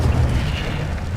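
Incendio fire spell blast in Hogwarts Legacy, a heavy, booming burst with deep rumbling low end that carries through a short roaring tail, loud and close.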